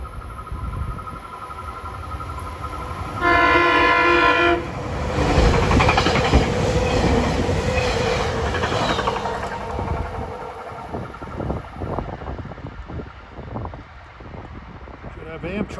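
Commuter train 5250 on the Malvern-to-Philadelphia run speeds through a station without stopping, sounding a loud chord horn briefly, then rumbling and clattering past as wheel noise fades into rhythmic clacks.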